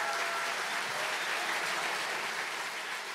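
A theatre audience applauds steadily in welcome as the singer comes on stage at a cabaret anniversary show, a dense, continuous wash of many hands clapping at full level for the whole stretch, with no voices over it.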